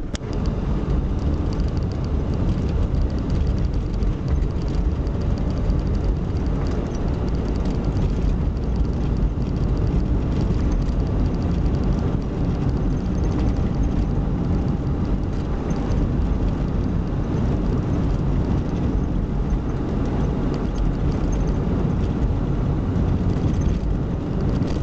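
Inside a car pulling away and driving on, a constant low engine and road rumble fills the cabin, steady and unbroken with only slight swells.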